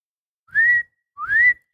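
A person in Fire Force whistles two short rising notes, clear and close, with a brief pause between them and silence all around.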